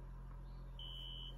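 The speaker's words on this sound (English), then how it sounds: "Now here's what this smoke detector sounds like." A household smoke detector gives one steady, piercing high-pitched electronic tone starting partway in, over a low constant hum.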